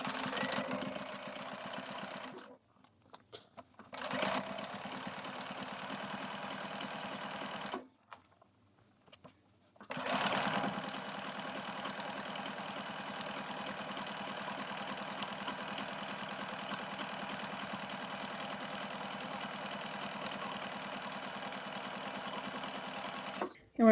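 A sewing machine top-stitches a trouser pocket and dart, running in steady mechanical bursts with two short pauses before a long continuous stretch of stitching.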